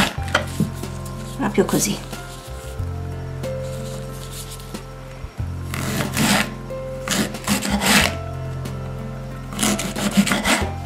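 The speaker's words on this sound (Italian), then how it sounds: "e poi affetto il carciofo a fettine molto molto sottili, più sottili possibili" A kitchen knife slices an artichoke into very thin slices, giving repeated crisp rasping cuts in bursts, close and fairly loud, with a brief spoken comment and some dish clatter around them.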